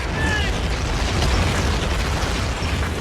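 Artillery bombardment during WWII's Operation Neptune: heavy shell explosions merge into a continuous, loud, rumbling roar of booms and bursts that never lets up across the whole stretch.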